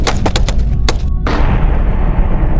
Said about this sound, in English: A fierce firefight ensues with the team valiantly fighting back against the onslaught.